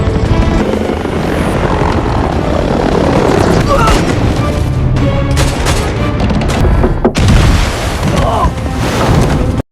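A helicopter in a film fight scene set over a flying ship among rocky hills, its loud rotor roar running continuously beneath dense gunfire, booms and a dramatic score.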